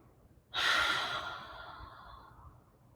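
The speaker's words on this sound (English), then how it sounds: "We'll take 2 breaths there." A single deep exhale during a lying-down yoga stretch, a long soft breathy sigh close to the ear that starts abruptly and slowly fades.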